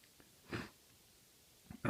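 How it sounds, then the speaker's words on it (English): Two quick allergy sniffles close to the microphone on a windy day, separated by a quiet pause. "Excuse my sniffles."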